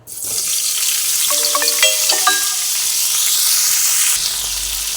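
Cauliflower florets dropped into hot oil where fish was just fried, giving a loud, close, continuous hissing sizzle with a few crackling pops and utensil taps early on.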